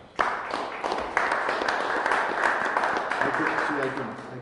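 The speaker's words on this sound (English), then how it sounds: "Let's give them a round of applause" A room at a Springfield COVID-19 news conference applauds the sign language interpreters, a sudden burst of many hands clapping that holds steady, with a voice starting to talk over it near the end.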